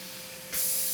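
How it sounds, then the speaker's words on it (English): A robot sprays polyurethane foam insulation, a steady broad hiss that starts abruptly halfway through and carries on loud and close, with a quieter background hum before it. "she's spraying a polyurethane foam, which has been used in industry for years to retrofit insulation"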